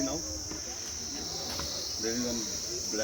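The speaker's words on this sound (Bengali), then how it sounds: "চারিদিকে ঝিঝি পোকার ডাক।" Crickets chirp all around on a hillside in Darjeeling with a steady, shrill trill that never stops, while people talk nearby.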